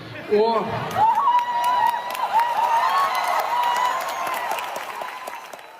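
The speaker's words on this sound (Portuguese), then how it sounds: "Ele fez ali a brincadeira e foi aplaudido." Steady applause from a crowd, with scattered cheers and whoops rising over the clapping.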